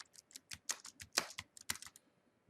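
Quick, irregular keystrokes on a computer keyboard, a steady run of light clicks with no talking, fairly quiet and close.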